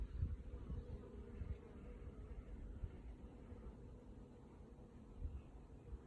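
Bees buzzing around an apiary hive during a summer feeding check, a steady, low droning hum that stays fairly faint and continuous throughout with no voices.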